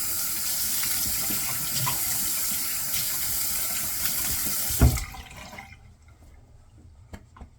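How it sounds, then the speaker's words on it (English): Tap water runs steadily while a Blackland Osprey Ti razor is rinsed under it, close and loud for about five seconds, then it stops abruptly with a clunk, leaving faint drips and small knocks. "let's get a little rinse on that."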